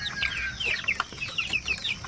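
Sampin chicks, a pure breed of chicken, cheep and peep in quick, high chirps, several overlapping and fairly close, with a faint low background murmur and no talk.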